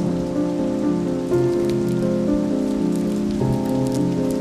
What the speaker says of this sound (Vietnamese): ngay cả khi trời đang đổ mưa lớn